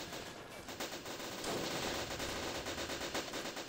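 Machine gun fire in a WWI trench battle video game, a dense rapid stream of shots that keeps going without letup for several seconds, loud and close, with no talking.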